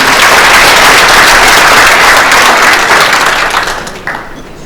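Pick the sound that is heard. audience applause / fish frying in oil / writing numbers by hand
audience applause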